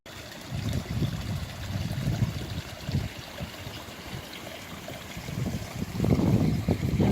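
A small mountain stream on a hiking trail trickles and splashes as it drops down several rocky levels, a continuous close water rush with uneven surges and louder bursts.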